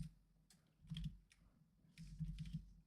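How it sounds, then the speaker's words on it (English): Soft keystrokes tap on a computer keyboard in two short bursts separated by a pause, quiet and close, with a few isolated clicks in between. "let's type the same thing"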